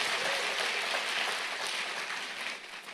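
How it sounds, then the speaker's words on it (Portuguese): A church congregation applauds during a service, with dense, steady clapping that fills the whole stretch at a moderate, fairly distant level and fades slightly toward the end. "aplauda o Senhor"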